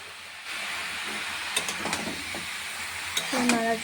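Ash gourd is stirred in a hot cooking pan with salt and turmeric, a steady soft hiss of frying under a few scraping strokes of the spoon, close and moderately loud.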